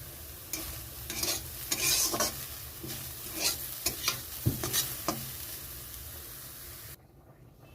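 Taro flowers frying in oil as a vegetarian dish make a continuous sizzling hiss with repeated scraping stirs of a spatula, before the sound cuts away to near quiet at the end.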